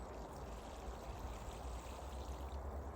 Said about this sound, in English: water the other side in exactly the same way